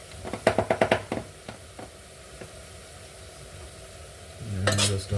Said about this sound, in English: I'm just gonna stir this, stir it together